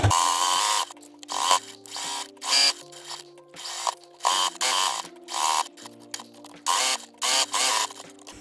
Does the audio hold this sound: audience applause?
no